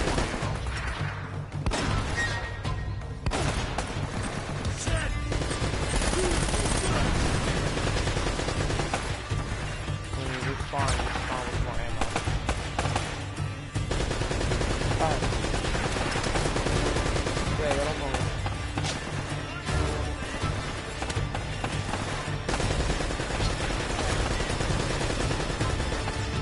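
Gunfire in the video game Uncharted: Drake's Fortune, with dense continuous bursts of automatic weapon fire and shots layered into a loud, unbroken barrage for the whole stretch, with voices talking underneath.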